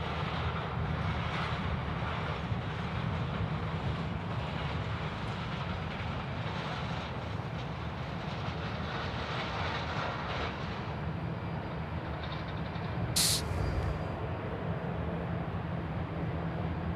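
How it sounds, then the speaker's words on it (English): Heavy airliner landing on runway 16 right at Sydney Airport at night, a steady, loud broadband engine roar that holds for the whole stretch, with a brief higher whine near the end. "The next heavy to come in here at 16 right."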